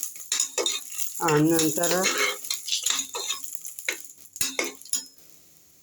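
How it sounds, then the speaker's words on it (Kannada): Food frying and being stirred in a pan, with soft sizzling, scraping and clinking of a utensil against the pan in irregular strokes, heard close up while a person talks over part of it. "ಇದನ್ನು ಫ್ರೈ ಮಾಡ್ಕೊಳ್ಳೋಣ ನೋಡಿ."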